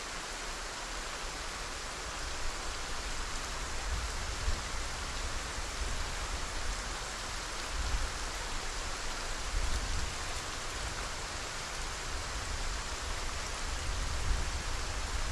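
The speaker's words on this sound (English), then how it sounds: "that rain is about as oppressive as DayZ rain" Heavy rain falls in a survival video game, making a dense, steady hiss of downpour that stays loud and unbroken the whole time with no voices.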